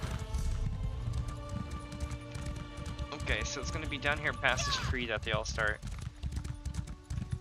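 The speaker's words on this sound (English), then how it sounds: "my horse isn't the fastest because I've put pacts on it." A horse in the Elder Scrolls Online game clip-clops along at a quick, even gallop throughout, with someone talking over the hoofbeats.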